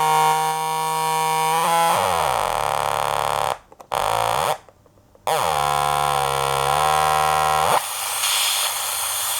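A radiokoala PG-13 groove generator and audio processor pours out a loud, steady hiss of white noise, cutting out briefly twice and shifting with sweeping tonal modulation from an LFO-driven oscillator.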